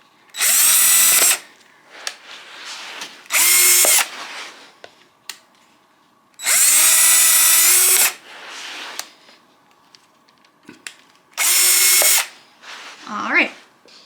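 Power drill backing out of plastic pieces being taken apart for recycling, four loud whirring bursts of a few seconds each with quieter handling clatter between them, close up.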